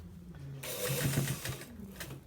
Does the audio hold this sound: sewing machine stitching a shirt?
yes